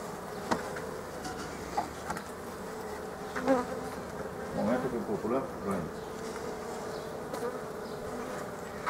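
Honey bees at an open hive drone in a steady, close buzz, with individual insects whining past and faint voices and handling sounds in the background.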